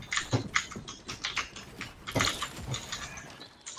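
A computer keyboard is struck hard during a Fortnite session, producing rapid, irregular bursts of sharp clacking keystrokes, close and fairly loud, with no talking.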